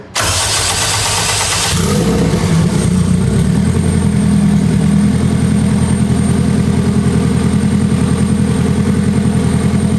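A turbocharged 500hp K20A2 Honda Civic engine cranks briefly on its first startup, catches with a loud roar, then settles into a steady, throaty idle that continues unbroken and close by.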